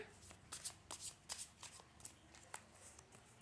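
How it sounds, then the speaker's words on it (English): Tarot cards are shuffled in a run of quick riffling flutters and soft slaps, close up and fairly quiet. "I'll shuffle a little bit more."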